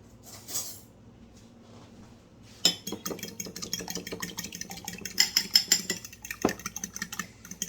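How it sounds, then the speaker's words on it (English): A raw egg beaten for a hair mask, a quick rhythmic clicking of a utensil against a bowl that starts after a quiet pause and continues steadily, fairly close and modest in volume. "One egg. I'm going to beat it up a little bit."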